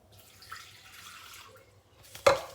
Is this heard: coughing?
no